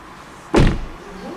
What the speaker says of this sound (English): let me just admire how solid the door is. Like, listen to this.